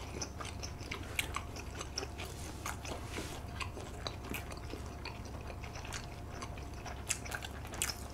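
Someone eating seasoned Korean fried chicken: close, wet crunching and chewing with small bites repeating steadily over a low background hum, with no talking.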